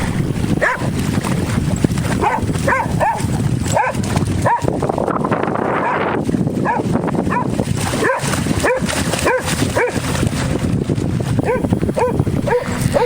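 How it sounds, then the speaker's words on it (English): Dog barking repeatedly at crashing waves near the Carquinez Strait, sharp close barks and yips in an irregular series over a constant wash of surf and wind. "he is barking at the waves that were crashing"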